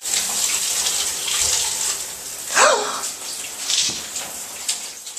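Water from a running shower sprays and splashes steadily at close range, with a brief vocal sound and some shifting splashes partway through.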